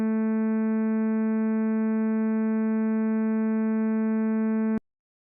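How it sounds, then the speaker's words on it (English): A steady synthesized tone built by stacking simple sine waves holds unchanged and static for nearly five seconds, then cuts off abruptly into silence. "We've made a pleasant sound from simple sine waves."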